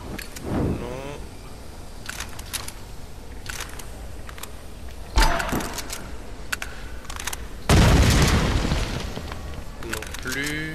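Explosions in the action game Tomb Raider, with two heavy booms midway and near the end, set among scattered clicks and whooshes while someone talks quietly.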